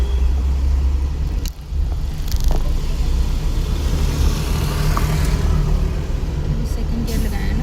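A car engine revs as the driver accelerates on a single-lane road, producing a loud, sustained rumble with the engine note rising and holding, with voices briefly heard over it.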